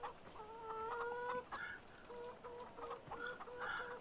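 Chickens in a farming video game cluck in a busy run of short, repeated calls, some in quick stuttering bursts, moderately close with steady background ambience and no talking.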